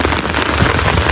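Heavy rain pours steadily in the Maldives, a dense, continuous hiss of drops hitting the ground close by, with no gaps or voices over it.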